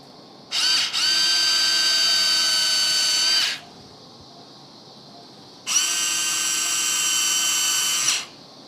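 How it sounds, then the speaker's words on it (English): Surgical bone drill boring holes into a dog's jaw bone during a rostral mandibulectomy, two steady whining bursts of about three and two and a half seconds separated by a short pause, close and loud with no talking. "now we will drill some holes in the bone, and that's going to be to anchor the sutures"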